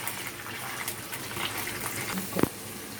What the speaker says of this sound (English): put in ginger garlic paste, 1 big spoon of ginger garlic paste, and give it a light stir because it will splutter